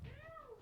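A person imitates a cat with a single short, rising then falling meow, close and clear.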